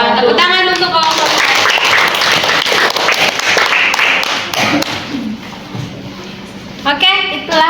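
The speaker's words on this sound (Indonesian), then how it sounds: "Tepuk tangan untuk kelompok." Classmates in a classroom clap for a group that has just presented, quick loud clapping with voices talking over it before it fades out.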